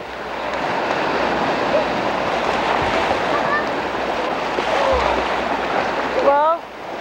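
Loud ocean surf crashing in a steady broadband roar with gusts of wind buffeting the microphone, near and continuous, and a voice speaking briefly at the end.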